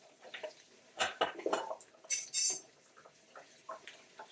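A paprika spice container's lid being worked open in a home kitchen during sloppy joe prep: a short run of close, light ticks, clicks and a brief scraping rattle, no talk.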